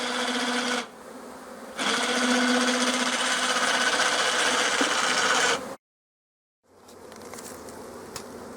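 Bees buzzing densely around a hive, a loud close insect drone in long steady bursts that stops abruptly, then comes back fainter.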